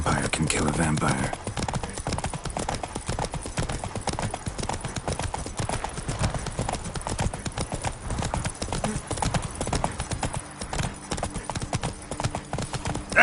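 Geralt's horse Roach trotting in The Witcher 3 (Blood and Wine), a steady run of hoof clip-clops carrying through the whole stretch, close and fairly loud, with a short whinny near the start and game speech over it.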